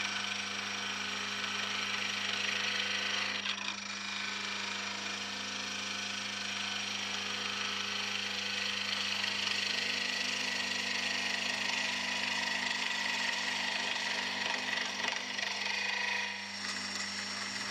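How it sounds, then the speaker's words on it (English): A wood lathe spins a piece of cocobolo while it is turned down to a cylinder and smoothed with a skew chisel, giving a steady, moderately quiet scraping whir over a low motor hum with a brief dip partway through. "we have to turn the Cocobolo down to a cylinder. Then smooth down with a skew chisel."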